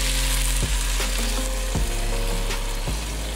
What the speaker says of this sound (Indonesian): Setelah itu kita masukkan kaldu yang sudah kita buat tadi.